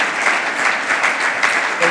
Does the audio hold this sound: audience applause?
yes